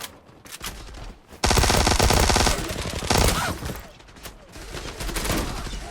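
Gunfire and a grenade explosion in the online shooter Zula: sustained rapid automatic fire with heavy booming bursts, loud and close, fading between volleys, no talking.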